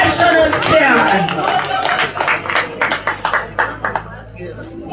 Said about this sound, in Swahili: makofi ya bwana National Chairman.